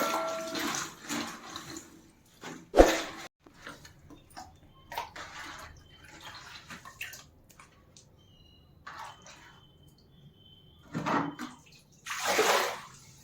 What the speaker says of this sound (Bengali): আমি এবার কচুর শাকটা ধুয়ে নেব